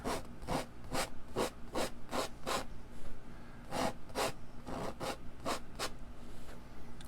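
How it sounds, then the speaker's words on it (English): Short repeated scraping strokes of oil paint across a canvas for a mountain painting, close and crisp in an irregular rhythm with a brief pause midway, no talk. "Let's go ahead and just start scraping some of this area."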